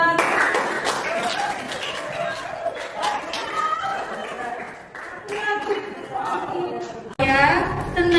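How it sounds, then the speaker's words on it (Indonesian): A classroom audience claps at a teachers' training session, a scattered burst of applause mixed with chuckles and chatter, with a louder clap and voices at the very end. "Beri aplaus dulu buat"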